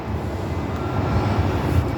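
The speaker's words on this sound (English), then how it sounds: "I've been seeing military planes fly over my head." A military plane flies overhead outdoors, a steady low engine roar that grows slightly louder as it passes, heard alone.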